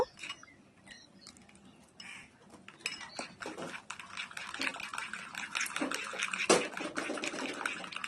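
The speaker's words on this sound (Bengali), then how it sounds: "দুধটা দেওয়ার পর ভালো করে চামচের সাহায্যে ব্যাটারটাকে স্মুদি করে নেব" A spoon works milk into bread pudding batter in a bowl, stirring briskly and close by. It makes repeated clinks against the bowl over wet, sloshing scrapes that grow busier as the mixing goes on.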